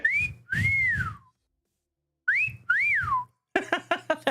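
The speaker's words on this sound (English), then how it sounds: "That was a terrible whistle." A person whistles rising and falling notes in short phrases with gaps between them, ending in a few quick chirpy bursts, close and clear with no talking.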